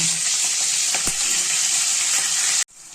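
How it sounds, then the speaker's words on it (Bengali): Green chillies and a small pinch of nigella seeds sizzle in hot oil for a vegetarian taro-leaf dish, a steady bright crackle throughout with a few louder pops, cutting off abruptly near the end. "ফোড়নটা হয়ে এসছে"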